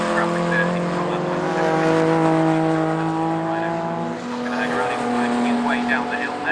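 Classic sports cars racing at Oulton Park, with a sustained engine drone and shifting pitch as cars pass, under continuous commentary from someone talking throughout.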